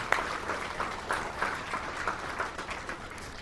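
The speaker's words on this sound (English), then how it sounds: "one more big round of applause for those guys" Crowd applause at an awards gala, a moderate spatter of clapping that holds steady and slightly thins toward the end.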